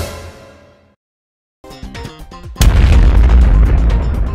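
Doom Peashooter explosions in the Plants vs Zombies video game: a fading tone and brief silence, then a burst of game sound effects before a loud, sustained booming blast fills the rest.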